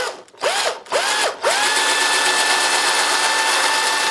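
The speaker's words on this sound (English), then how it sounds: "What I'm going to do now is drill right down through there." A power drill bores down through a bundle of feathers glued together for a Native American craft project, with a few short bursts of whining motor and then one long steady run, close and loud.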